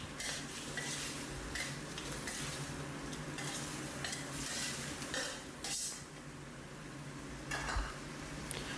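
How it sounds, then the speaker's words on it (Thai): Pork ribs stir-fry with red chilies in a hot pan, a steady dense sizzle beneath scraping spatula strokes and occasional metal knocks, close and continuous without any talking. "ผัดสักครู่นะครับให้พริกชี้ฟ้าสุกก่อนนะครับ"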